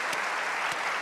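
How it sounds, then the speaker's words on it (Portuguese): An audience at a comedy show in the CCB gives a thick, continuous round of applause, a wash of many hands clapping with no voices on top. "para quem peço um grande aplauso"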